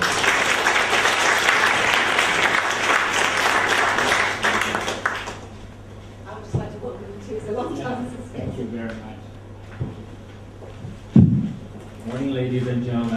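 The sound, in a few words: audience applause welcoming the speaker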